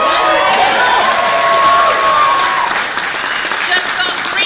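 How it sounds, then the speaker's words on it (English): Dense audience applause at a talk-show interview with Sylvester Stallone, a loud sustained wash of clapping with cheering and voices mixed in, easing slightly toward the end. "we need to give a big round of applause for"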